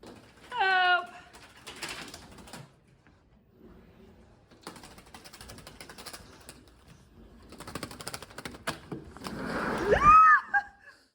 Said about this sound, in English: there's a bird in our house